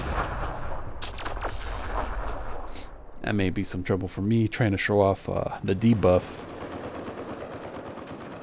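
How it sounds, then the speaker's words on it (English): Cryo explosions go off in Mass Effect Andromeda multiplayer, sounding as a run of sharp, booming bursts amid game combat noise, with someone talking over them. "I hear cryo explosions going off."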